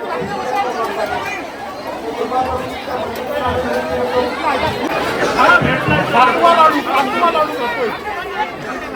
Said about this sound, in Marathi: दुसरी पंगत आहे तरी पण बघा गर्दी का कमी होत नाही